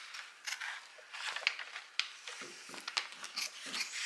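Scissors snip through paper handbag pattern pieces, a close, steady run of crisp cuts and rustling paper with no talk.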